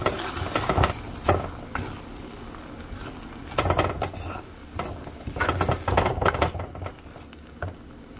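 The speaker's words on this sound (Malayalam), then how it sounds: "ഇതൊന്ന് നന്നായിട്ട് മിക്സ് ചെയ്ത് എണ്ണ തെളിയുന്നത് വരെ നമുക്ക് ഇളക്കിയെടുക്കാം." Fried onion masala is stirred in a pan as the oil separates, with a soft sizzle under repeated scraping and clinking strokes of the spoon that come in irregular bursts, close and moderately loud.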